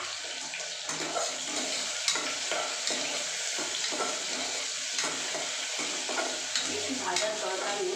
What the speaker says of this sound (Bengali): এখন আমি আলুগুলো দিয়ে দিলাম